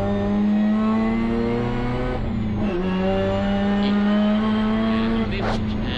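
A 2003 Mazda RX-8 SP Turbo rally car pulls hard in second gear, its engine note climbing steadily and loud with a brief dip at a shift, heard close from inside the car.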